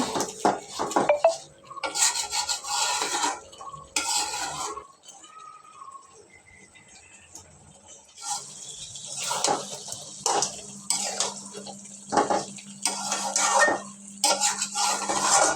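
Duck meat being stirred and fried in a pan while its released water cooks off: repeated metal scraping and clatter of a spoon against the pan in bursts, close, with a quieter pause midway.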